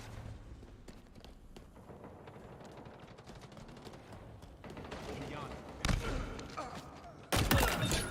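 Halo Infinite gunfire in a multiplayer match: a steady stream of rapid shots under game noise, building into louder bursts and heavy impacts near the end, with a player's voice over the action.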